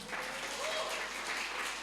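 A church congregation at a Sunday service applauds for God, a soft, sustained patter of many hands clapping at once, moderately distant and fairly quiet, with no distinct voices over it.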